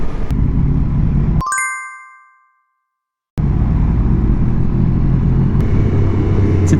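A motorcycle engine on a countryside ride rumbles loud and close with a deep, raspy exhaust note, broken midway by a bright chime and a sudden drop to silence before the engine roar returns.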